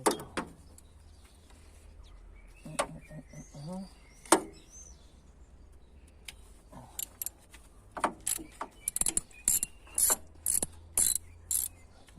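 Ratcheting clicks from a long bolt being screwed in during an ignition coil replacement on a Seat Cordoba, sparse clicks and metallic taps, then a steady run of evenly spaced ratchet strokes near the end.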